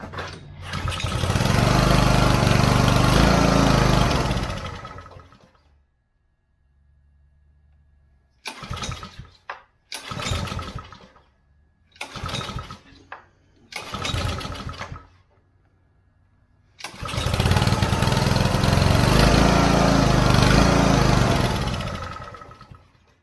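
A Troy Bilt log splitter engine with the choke on is pull-started: it roars to life, dies out, then catches in several short bursts of rough running before finally settling into a steady loud run.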